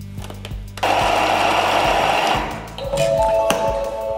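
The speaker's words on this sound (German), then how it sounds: "In den Mixtopf kommen die Zwiebel und die Knoblauchzehe, die Karotte. Das Ganze wird 5 Sekunden Stufe 5" A Thermomix bowl chops onion, garlic and carrot in a short burst at speed 5. The whir starts suddenly, stays loud and steady for about two seconds, then slows and stops with a few clicks.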